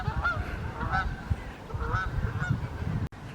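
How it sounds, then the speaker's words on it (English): Canada geese honking beside the River Weaver, a flock calling in repeated nasal honks, several overlapping at moderate distance over a breezy outdoor background. "Yeah, all Canada geese."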